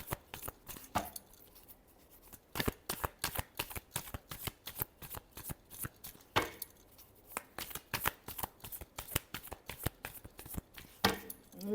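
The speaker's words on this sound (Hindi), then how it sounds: "last shuffle" Tarot cards shuffled in rapid, repeated riffles and flutters, close and fairly quiet, with brief pauses between bursts and no talking.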